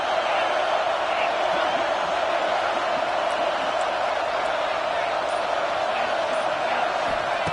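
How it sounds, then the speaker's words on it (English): A dense, steady roar from a packed stadium crowd at a football game fills the whole stretch at constant loudness, with no clear voices standing out. "Listen to the crowd energy here in the early going."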